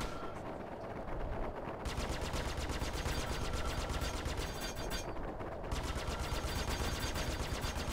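Rapid machine-gun bursts from an aircraft in a fighter combat video game, two long sustained strings of fire with a short pause between, loud and close with no talking over them.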